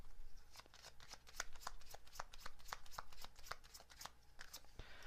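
Message cards being shuffled, a quick series of crisp riffling snaps close by and fairly quiet, with no voices.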